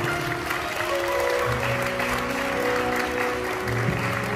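A wedding hall crowd applauds as the bride and groom bow, steady clapping filling the room under sustained background music.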